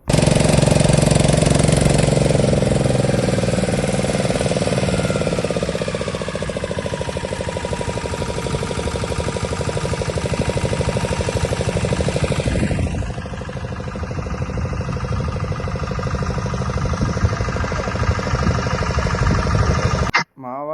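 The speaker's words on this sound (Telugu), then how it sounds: "బాబా అయితే ఇంతలోనే ఇంజిన్ స్టార్ట్ చేసాడనమాట" A boat's motor runs close by, first a loud steady drone that settles into a lower idle, continuous and engine-heavy with faint voices underneath.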